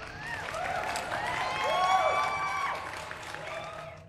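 A crowd claps and cheers steadily, with whistles and whoops rising over the clapping, loud and continuous throughout.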